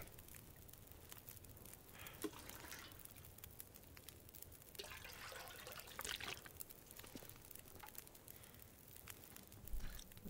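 Faint water trickling and dripping in a survival video game set in an apocalypse, a soft continuous wash with scattered small drips, quiet and unbroken, with no talk over it.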